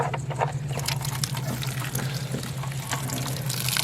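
Water draining out of the bung of an esky cooler at a car camping kitchen, a steady close trickle and splash running continuously under a low constant hum.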